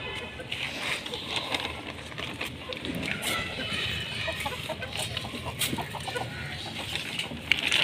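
A rooster and hens peck at scattered grain, clucking steadily nearby, with a voice faintly present in the background.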